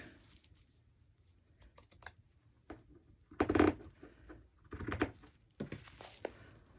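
Thrift-store pinking shears snipping paper in a crafting session, irregular crisp clicks and crunching cuts in short bursts, with quiet pauses between.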